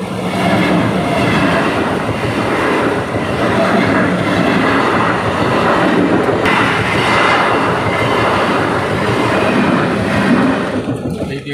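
A train rumbles past the Dantpur rail gate level crossing on a rainy day, loud and close, with steady wheel clatter and rolling noise sustained throughout and a slight shift midway.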